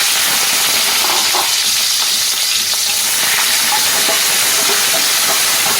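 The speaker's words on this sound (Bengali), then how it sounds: "ফোড়নের গন্ধ ছাড়লে দেব কুচনো পেঁয়াজ।" Chopped onion frying in hot oil with whole cumin seeds, a steady, dense sizzle and hiss throughout, close and fairly loud, with occasional soft pops and stirring sounds and no talking.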